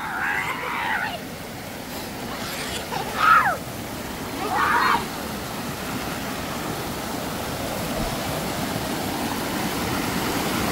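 A river runs at the swimming hole La Posa El Remolino with a constant rushing wash. Voices call out briefly over it near the start, and the flow then continues alone at a steady level.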